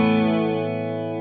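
An overdriven electric guitar chord runs through an Ibanez Bi-Mode Chorus pedal set to its slowest speed, a dense sustained tone with gentle shimmer, slowly fading across a short stretch with no talking.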